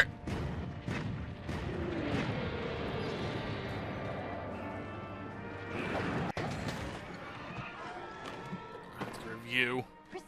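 Heavy cannons fire in the video game Monster Hunter: World, with several booming blasts and crashing impacts amid the game's battle noise as a person talks over them.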